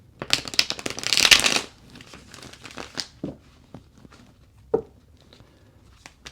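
Tarot cards being shuffled, a dense riffling burst up close followed by scattered soft card slaps and handling sounds, with no speech.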